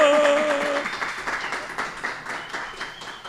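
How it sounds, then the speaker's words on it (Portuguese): A live audience applauds a guest arriving on stage, with dense clapping that starts loud and gradually thins and fades. Brief voices sound at the start. "Recebam com uma salva de palmas Paula Cassanho!"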